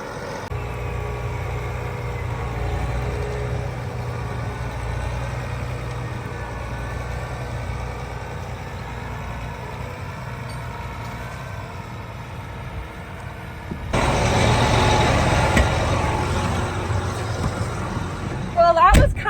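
A tractor engine drones steadily as it pulls a stuck car out of mud, then revs harder and louder near the end, with people talking over it.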